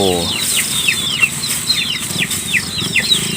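Many chickens clucking close by outdoors around rice fields, a dense chorus of overlapping clucks and squawks that continues steadily throughout.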